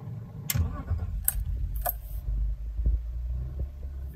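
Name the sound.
BMW E46 323 Ci inline six engine starting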